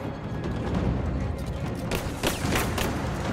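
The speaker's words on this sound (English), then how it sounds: "How is he shooting me through the wall?" Enemy gunfire in Rise of the Tomb Raider comes in a string of sharp, close shots that cluster toward the end, over a constant dense background of game noise.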